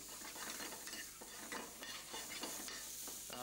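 Eggs frying in a hot pan, a steady crackling sizzle throughout with repeated stirring and scraping sounds over it, close and continuous, with no one speaking.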